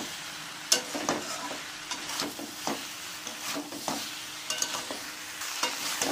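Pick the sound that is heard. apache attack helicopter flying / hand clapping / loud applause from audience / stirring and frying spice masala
stirring and frying spice masala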